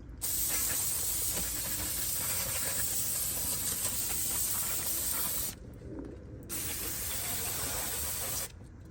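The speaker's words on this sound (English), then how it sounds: "Now let's clean this with brake cleaner." Brake cleaner sprayed onto the front brakes of a Lexus GX 460, a loud sustained aerosol hiss in two long bursts separated by a brief pause, close to the can with no talk.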